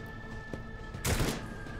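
A burst of gunfire in the video game Rogue Trader: one loud, dense volley about midway, over a steady low game ambience with a faint tone.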